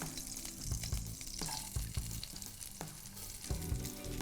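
Blanched carrots, long beans and capsicum sauté in a hot pan, a steady quiet sizzle with occasional scraping stirs and soft clinks, no speech.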